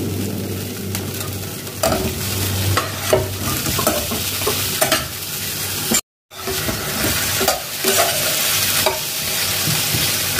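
Boiled jackfruit frying in a pan with ginger paste and tomato, loud continuous sizzling under steady scraping stirs, briefly cut off by a short gap before the sizzle and stirring resume.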